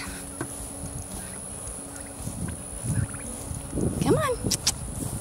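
Turkeys from a flock gobbling on a farm as they are moved out to pasture, a loud warbling gobble near the end after softer clucks, with a person talking in between.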